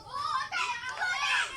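Children playing nearby, high excited voices calling and shouting in overlapping bursts, moderately loud, with outdoor background noise underneath.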